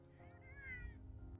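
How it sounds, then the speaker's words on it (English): A single drawn-out cat meow, soft and somewhat distant, rising and falling in pitch over a low background hum. "Probably hear Sirius meowing."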